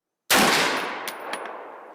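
A single loud, sharp gunshot from a 6.8 SPC AR-15 pistol firing 90 grain Federal Gold Dot rounds bursts out of silence and leaves a long echoing tail that gradually fades.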